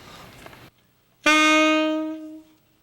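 A single sustained alto saxophone note, C, rings out clearly after a short pause, holding steady before fading, with a bit of background noise beforehand.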